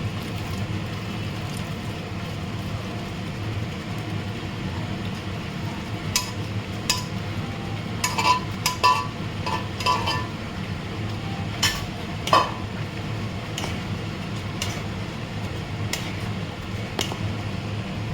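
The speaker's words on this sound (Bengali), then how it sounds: "এবারে আমি ছোলাটা দিয়ে দিচ্ছি" Chickpeas go into a pan of vegetarian curry and get stirred, giving soft scraping and occasional metallic clinks of a utensil against the pan over a steady low background hum, with no talking.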